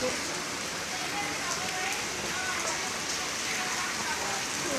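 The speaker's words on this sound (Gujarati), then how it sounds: "વરસાદ મસ્ત ચાલુ થઈ ગયો છે" Steady rain falls in a dense, even hiss on surfaces close by, continuous and moderately loud throughout, with faint voices in the background.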